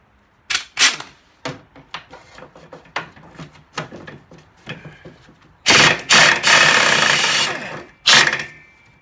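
On an Arctic Cat Jag 3000 snowmobile clutch, a 19 mm tool works the bolt loose with a run of sharp metallic clicks and knocks, then two longer loud bursts of power-tool rattling.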